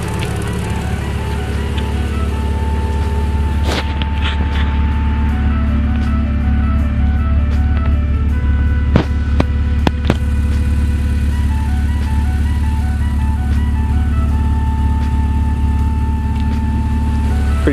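Honda H22 engine in a CB7 Accord idling cold at just above 1,000 rpm through a newly built exhaust: a steady, close, low rumble that holds evenly throughout, with a few faint clicks and no talking.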